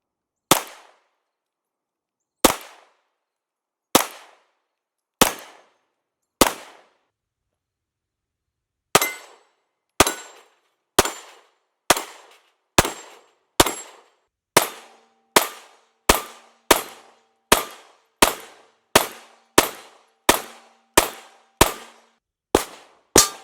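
Springfield Armory Hellcat pistol fired at an outdoor range: about two dozen sharp, loud shots, a few slow single shots first, then after a pause a faster steady string, each crack ringing briefly.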